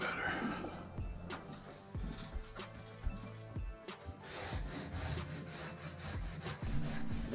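Steady scraping and rasping strokes of sanding a ceiling drywall seam, close by, repeating in uneven rhythm with occasional knocks.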